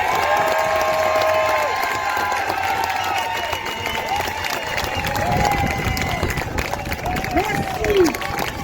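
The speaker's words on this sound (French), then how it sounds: "je voudrais qu'on leur fasse une ovation, un bon applaudissement et qu'on les réveille." A crowd at an outdoor citizens' protest march applauds and cheers loudly, with whoops, shouts and whistles rising over sustained clapping, voices mixed in close by.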